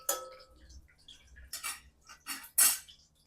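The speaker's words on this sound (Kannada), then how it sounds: "ಅದೇ ಸೌಟಲ್ಲಿ ಇವಾಗ ನಾನು ಫ್ರೈ ಮಾಡ್ಕೊತಾ ಇದ್ದೀನಿ" A ladle scrapes and clinks against a pan while frying for a vegetable pulao, giving a few sharp metallic knocks spread out between quiet gaps, each one close and clear.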